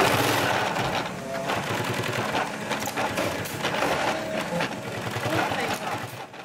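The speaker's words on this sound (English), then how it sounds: "Here we see a pocket of a Super Yankee being sewn." Industrial sewing machine stitching a leather tool belt pocket, a rapid steady mechanical chatter running nearly continuously at close range, with a faint voice or background talk mixed in.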